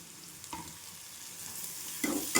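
Soya pulao vegetables with coriander being sautéed in a pan, a steady low sizzle with a few sharp stirring scrapes near the start and close to the end, no voices.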